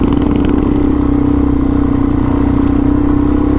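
A 650 single-cylinder motorcycle with an FMF exhaust pipe runs nearby with a steady, throaty, thumping engine note that holds constant throughout, with no speech.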